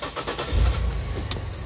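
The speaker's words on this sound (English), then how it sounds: "Now I'm gonna start the car up" A car engine cranks and catches, settling into a steady rumbling idle, loud and close with no talking, with a car audio system set up at 0.5 ohms on low power.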